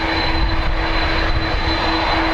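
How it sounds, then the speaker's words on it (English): United Boeing 787 Dreamliner jet engines on departure at an airport, a loud continuous roar with steady high whine tones, close and unbroken, no talk. "The United Dreamliner to Chicago is lined up."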